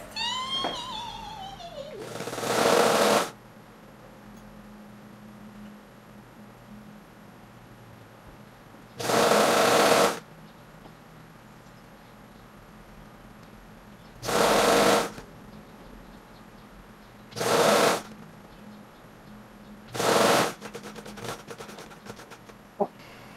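A sewing machine stitching wide-leg trousers, running in five separate loud whirring bursts of about one second each, with quiet handling noises in the pauses between them.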